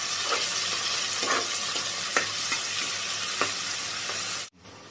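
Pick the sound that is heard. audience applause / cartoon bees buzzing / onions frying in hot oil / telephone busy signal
onions frying in hot oil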